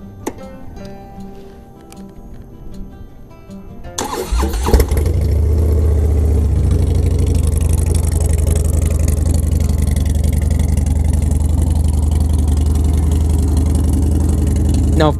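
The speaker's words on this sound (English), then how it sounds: "We'll go ahead and start the two bikes up." Two Harley-Davidson motorcycles, a Dyna and a Sportster, one with aftermarket exhaust: an engine cranks and catches after a few seconds, then settles into a loud, steady, rumbling motorcycle idle that continues to the end.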